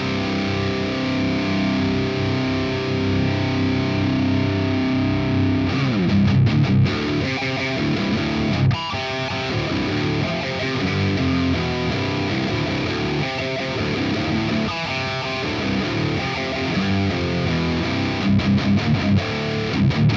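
Heavy nu-metal guitar riff through the Amped Triple Rev G amp plugin's default preset, loud and continuous with chugging palm-muted bursts and sustained chords throughout.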